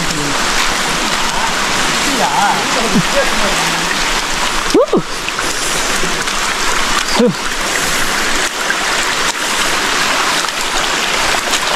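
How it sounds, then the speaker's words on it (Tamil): Water rushes steadily nearby on a trekking trail to Kuttu Patti Falls near Natham, Dindigul, a broad continuous wash of flowing water with a few brief voice sounds over it. "இங்கே பக்கத்துலேயே அருவி ஓடுது."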